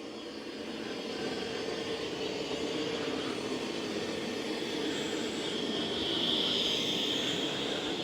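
A Dreame Matrix 10 Ultra robot vacuum running over carpet, a steady broadband motor whir and airflow hiss that holds even and close throughout, swelling slightly near the end, with no talk.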